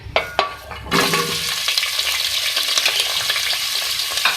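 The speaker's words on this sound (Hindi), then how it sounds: "आलू को भी फ्राई करेंगे" Potatoes dropped into hot oil in a pan for a beef aloo fry masala, starting with a few clatters and then a sudden loud, steady sizzle that crackles on throughout, close and with no talking.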